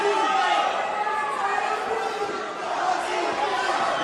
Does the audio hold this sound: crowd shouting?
yes